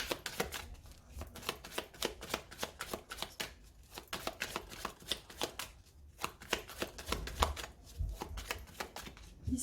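A Lenormand card deck is cut and shuffled close up, with soft, rapid riffling and slapping card sounds that repeat in quick bursts throughout, quiet and with no voices.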